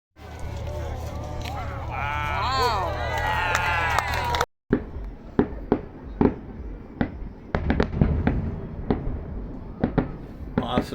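Fireworks over the water at Mackinac Island, seen from a dockside front-row spot: a string of sharp bangs and crackles, some close together, some spaced apart. Before them comes a stretch of loud mixed crowd noise and voices, then a brief cut.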